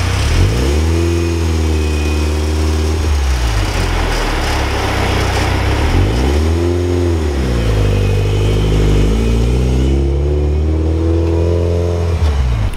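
A car engine running after being jump-started because of a dead battery, revving up twice in rising and falling surges between steadier idling, loud and close with no talk.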